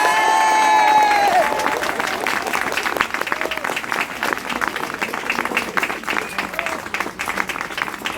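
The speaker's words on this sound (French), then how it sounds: "Je vous propose que nous leur montrions comment nous applaudissons à la Montreuilloise." An audience at a municipal inauguration in Montreuil breaks into loud, dense applause that carries on steadily for several seconds, with a brief whistle and a few cheers at the start.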